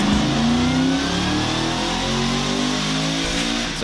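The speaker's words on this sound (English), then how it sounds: "The crazy supercharger sound." An RC truck with supercharger sound revs loudly up and down. Steady rising and falling whining engine tones are heard close up, with no voices.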